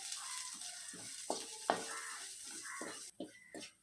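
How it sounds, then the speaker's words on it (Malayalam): Chili, coriander and garam masala powders fry in hot oil for a Maggi noodle dish, a steady close sizzle broken by irregular scraping stirs of the spoon through the pan. "ഇവ മൂന്നും കൂടി ഇട്ട് കൊടുത്തതിന് ശേഷം ഒരു 2 മിനിറ്റ് നമുക്കിതൊന്ന് മൂപ്പിച്ചെടുക്കാം"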